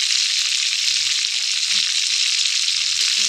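Chicken seekh kebabs fry in oil in a karahi, giving a loud, continuous hiss and sizzle that stays even throughout, with a few soft clinks and stirring sounds beneath it.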